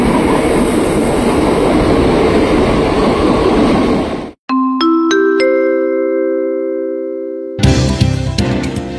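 A KRL commuter train bound for Jakarta Kota roars loudly through Depok Baru station with rushing wheel and rail noise, then cuts off, leaving ringing chime-like tones before the rumble of carriages returns.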